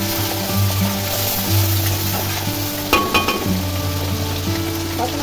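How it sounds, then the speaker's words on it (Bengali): Cumin seeds and ginger frying in hot oil for a vegetarian banana-flower curry, a steady loud sizzle with occasional clinks and scrapes of stirring in the pan. "তারপর এর মধ্যে জিরে আদা ঢেলে দেবো। দিলাম একটু জিরে, ভালো করে কষিয়ে নেবো।"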